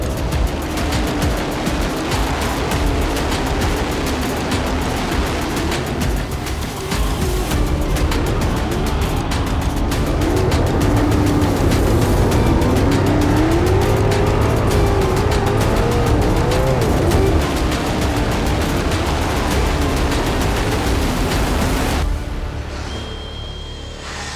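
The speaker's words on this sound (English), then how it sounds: "The Jason Johnson Classic is green at Arrowhead" Dirt track race cars roar around the oval at Arrowhead during the Jason Johnson Classic, a dense, loud, continuous engine howl from several cars with rising and falling pitch, close and unbroken until it fades near the end.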